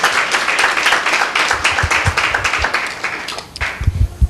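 A church congregation breaks into loud applause during a worship meeting, dense clapping that thins and softens toward the end before a few scattered claps.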